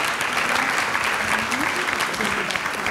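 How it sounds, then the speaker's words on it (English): An audience at a 2022 HR forum panel discussion gives a panelist a round of applause, a steady, full-bodied clapping that stays loud and dense across the short stretch, with faint voices mixed in. "a round of applause for her"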